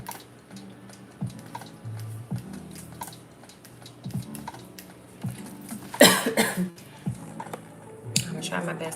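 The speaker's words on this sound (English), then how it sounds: "I'm gonna try my best not to cough as much." A person coughs once sharply near the microphone amid keyboard typing and clicks, with speech heard intermittently during a live online reading session.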